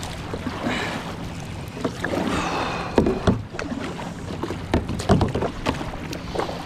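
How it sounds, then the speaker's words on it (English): Kayak paddled across open water toward an island, with irregular splashing paddle strokes, water lapping against the hull and light wind noise, close and moderately loud. "Keep paddling till the arms fall off."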